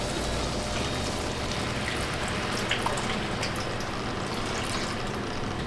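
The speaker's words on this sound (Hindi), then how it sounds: "इसमें हम डालेंगे थोड़ा सा पानी।" Water is poured into a cooking pan holding a marinated chicken dish for Lucknow-style murgh musallam, making a steady, close wash of splashing and sizzle that lasts the whole stretch with no talking.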